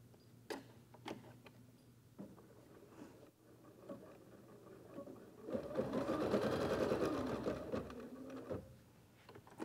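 An embroidery machine stitches a tacking sequence that holds cuddle fabric down in the hoop, with a quiet run of ticks and taps that builds into a steady, louder whirring patter before easing off.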